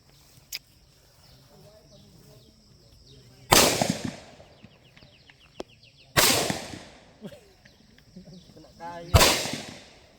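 Rifle shots at an air force base defence-force shooting practice: three loud, sharp reports spaced a few seconds apart, each trailing into a short echo, with faint instructors' voices and quiet outdoor ambience between them.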